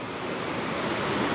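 Steady rushing river water beside a campsite at Laguna Negra, a close, even broadband wash with no breaks.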